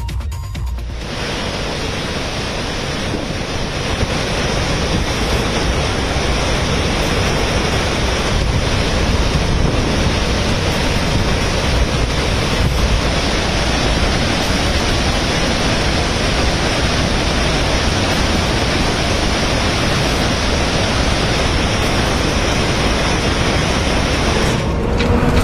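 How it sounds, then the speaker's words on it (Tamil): Water roars continuously out of the open floodgates of the Ukai dam in Gujarat, a loud, dense rushing wash with wind buffeting the microphone throughout. "இதனால் அணையிலிருந்து தண்ணீர் ஆர்ப்பரித்து கொட்டியது."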